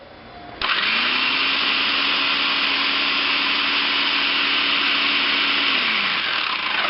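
A Black and Decker food processor switches on abruptly and runs at a steady, loud whirring hum while its slicing blade cuts a cucumber, with the motor tone holding constant for several seconds before easing slightly near the end.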